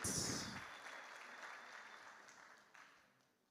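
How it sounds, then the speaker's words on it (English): An audience at a youth and students political consultation meeting claps hands, a burst of applause that starts loud and fades steadily over a few seconds. "And clap your hands for this very important mandate."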